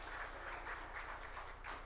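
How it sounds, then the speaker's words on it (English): Audience applause at a business conference on AI, a steady wash of many hands clapping, moderately distant and even throughout, with no talk. "A round of applause."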